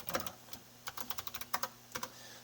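Light, crisp keystrokes on a MacBook keyboard, a quick irregular run of clicks typed close to the mic in a quiet room, with no talk.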